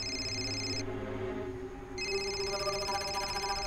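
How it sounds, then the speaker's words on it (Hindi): A telephone rings in a TV drama scene, a steady electronic ringtone with repeating tonal pulses that drops out briefly and then resumes, fairly quiet and with no one speaking over it. "अभी क्यों फोन कर रही है?"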